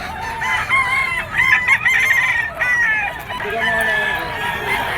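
A white kelso gamecock rooster crows loudly and close by, several drawn-out crows in a row with clucking between them, while people talk over the birds in the background.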